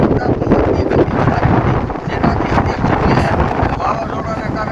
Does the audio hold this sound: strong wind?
yes